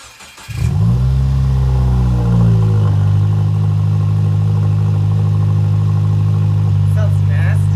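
A Subaru WRX starts up with its stock exhaust removed: a brief cranking, then a loud, raw engine catch that settles into a steady, rumbling idle held close and continuous for several seconds, no talk over it.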